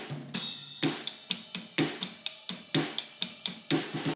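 Drum kit groove with a fill moving across rack tom, snare and floor tom, steady, evenly spaced strikes with cymbal wash, moderately loud and close, no voices.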